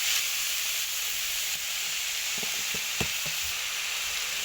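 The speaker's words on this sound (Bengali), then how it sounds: "এরপর বাঁধাকপি রান্নাটা করে নিচ্ছি" Cabbage sizzles and fries steadily in a pan, a close, even hiss with a few soft knocks and scrapes of stirring late on, and no voices.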